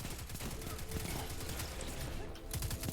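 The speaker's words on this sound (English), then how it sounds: "It's a 600 RPM auto rifle." Rapid 600 RPM auto rifle gunfire in the Destiny 2 video game, a dense stream of shots mixed with other battle sounds, with voices faintly present.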